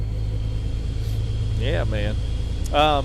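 A heavily customized Hi Way Killer truck in American Truck Simulator idles with a steady low engine rumble throughout, while someone speaks briefly over it.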